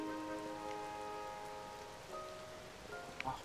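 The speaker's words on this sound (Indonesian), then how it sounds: "Hujan seharian nih." Rain falls steadily in The Legend of Zelda: Tears of the Kingdom as a constant, even hiss under sustained tonal game music. A few soft clicks come near the end, and no one speaks.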